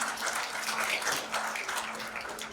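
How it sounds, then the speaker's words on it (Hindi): An audience at a regional organisational workshop claps loudly in dense, continuous applause that holds steady at full strength for the whole stretch, with no voices over it. "एक बार जोरदार ताली अपने लिए बजा दें"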